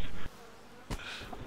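Buzzing bees in a video game, a dense insect drone that cuts in and out in short bursts, close and fairly loud, with no talking over it.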